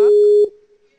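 A single loud electronic phone signal tone, a steady pure beep held for under half a second before cutting off abruptly, leaving a faint fading trace.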